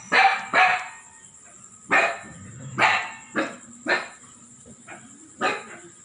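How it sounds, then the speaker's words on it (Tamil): A dog barks repeatedly, about eight sharp barks at an uneven pace, close and loud, with a faint high tone running in the background. "எங்கேயோ நாய் குலைக்கிற சத்தம் கேட்டு இப்படி குலைக்கிறீங்களா"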